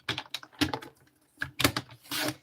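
Paper being cut for a scrapbook mini album, a few short, crisp bursts of cutting and sliding, close and clear, separated by brief quiet gaps.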